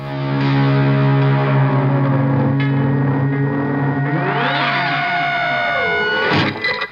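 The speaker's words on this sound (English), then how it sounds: "A tape echo pedal." A sustained electric guitar tone repeats through a T-Rex Replicator tape echo pedal, the repeats bending and warbling in pitch before a swelling burst of feedback.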